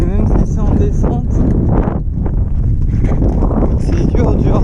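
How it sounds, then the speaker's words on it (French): Cold wind buffeting the microphone during a trail run in the Suisse Normande, a loud, constant roar with gusty low rumble while a person talks over it. "Le vent est pas chaud."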